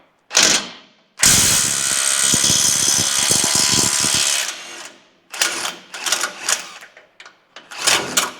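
A 17mm socket spanner undoes the frame mounting bolts on a Toyota Hilux during a steering rack replacement. After one short click, a loud, sustained metallic ratcheting runs for about three seconds, followed by several shorter uneven ratchet bursts close by.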